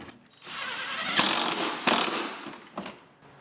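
Ratchet tightening the bottom inside headlight bracket bolt on a Honda Civic, a few bursts of quick clicking strokes, close and moderately loud, separated by brief pauses.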